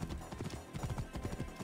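Horse hooves clip-clop at a steady trot across the ground in the Assassin's Creed Origins video game, set in ancient Egypt, with a continuous rhythmic patter at moderate loudness and no talk over it.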